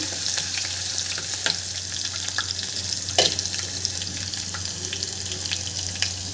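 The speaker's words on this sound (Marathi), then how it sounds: "यामध्ये आता आपल्याला आलं लसूणची पेस्ट घालायची आहे आणि याला आपल्याला दोन मिनटं परतून घ्यायचं" Ginger garlic paste sautéing in a pan for vegetable dal khichdi, a continuous close sizzle broken by light scraping and clicking stirring strokes.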